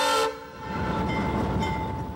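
Train on railroad tracks crossing a city street in Hamilton, a loud horn blast at the start and then a steady rolling rumble of the cars passing near, continuous and without talk.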